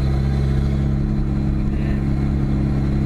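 A turbocharged 1999 Ford Festiva engine accelerates, a loud, steady mid-pitched drone heard from inside the car with no talk.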